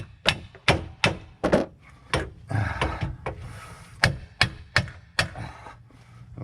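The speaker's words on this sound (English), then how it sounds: "So we can tap on this a little bit." Hammer tapping a lower control arm into place on a 2013 Dodge Ram van: a dozen or so sharp metallic knocks at an irregular rhythm, close and clear, with short pauses between blows.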